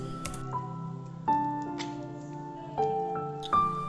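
Cooked chana dal is mashed in a pot, giving soft, wet squishing presses at a steady pace. A few louder squelches stand out over a low, steady background hum.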